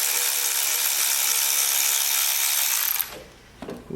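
A ratchet wrench removes a nut from an engine near the intake manifold, giving a loud, continuous whirring ratchet buzz for about three seconds before it stops.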